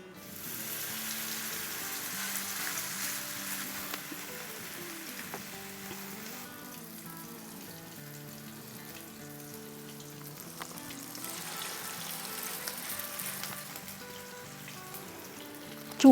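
Flat kebabs frying in shallow oil in a pan on a stove at medium-low heat, giving a steady close sizzle with fine crackling throughout, no talking.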